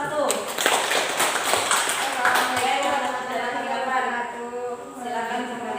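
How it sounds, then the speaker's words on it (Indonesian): A classroom group claps in applause for the first presenting group, a steady patter of many hands under a lively murmur of voices, fading slightly toward the end. "Beri aplaus untuk kelompok 1"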